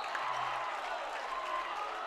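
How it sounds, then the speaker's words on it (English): Crowd at a varsity high school basketball game between Bellarmine and Serra stirs after a block, a faint, diffuse murmur with scattered claps and a voice talking over it. "the crowd of Bellarmine is in astonishment"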